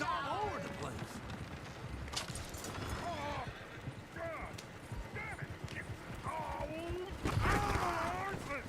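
Horse hooves clip-clop steadily as a coach rolls along in Red Dead Redemption 2, with horse snorts mixed in and people talking over it throughout.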